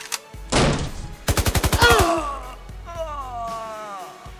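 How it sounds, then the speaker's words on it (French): Assault rifle gunfire as a sound effect: a loud rapid burst of about ten sharp shots following an earlier heavy blast, then ringing, groaning tones fading out afterward. "Rapidement, je saisis mon fusil d'assaut et je tirai sur les deux coquins."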